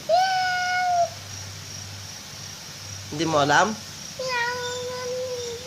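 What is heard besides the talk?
cat meowing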